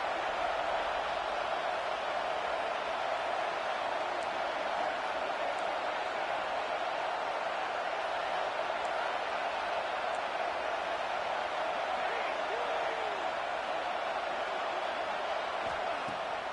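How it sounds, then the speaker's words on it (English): Football stadium crowd early in a game, a constant broad roar of many distant voices, steady and unbroken throughout with no distinct peaks. "This crowd bringing the energy and noise early."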